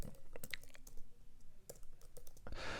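Fast, light clicking of keys on a computer keyboard, close and fairly quiet, in uneven bursts with short pauses and a softer rustle at the end, with no talking.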